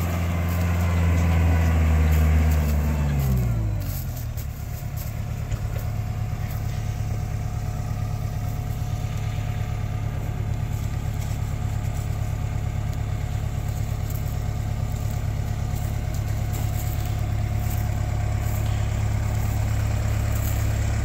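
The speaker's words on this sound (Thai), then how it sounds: "เป็นรถไถของคูโบต้าครับ L500 ครับนานๆจะได้เจอรถของคูโบต้าครับ" A Kubota L500 tractor ploughing a paddy field in South Korea, its diesel engine running steadily and loud throughout, with a brief drop in pitch early on before settling into a constant low drone.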